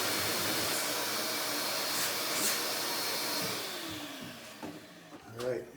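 A shop vacuum runs loudly beside a hole saw cutting during bedroom electrical rough-in, a steady broad whoosh that fades toward the end as the saw grinds and catches briefly, with voices talking over it.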